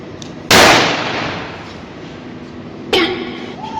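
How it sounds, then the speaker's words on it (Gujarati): A firecracker bursts in a street with a sharp, loud crack that decays over a second, followed by a second, shorter pop moments later. "ઓ ફટાકડો અવાજ થાય"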